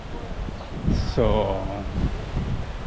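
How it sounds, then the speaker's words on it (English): Strong wind blows at a beach in Caleta de Fuste, Fuerteventura, during a small storm, making a continuous low rushing rumble under a man's brief speech. "Today it's really windy."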